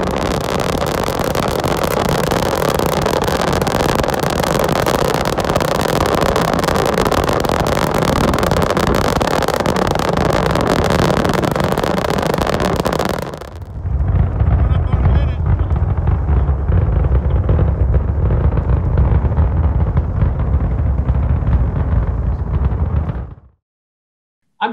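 A rocket engine test firing roars continuously and loudly for about thirteen seconds, then shifts to a deeper rumbling roar before cutting off abruptly.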